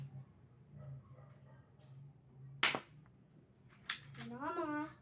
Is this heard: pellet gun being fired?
yes